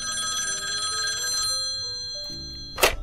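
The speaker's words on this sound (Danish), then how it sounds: "Og telefonen." A restaurant telephone rings with a bright, continuous bell tone lasting a couple of seconds, fairly loud and close, followed by a short clatter as the call is picked up.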